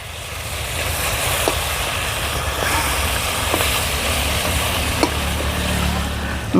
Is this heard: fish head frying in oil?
yes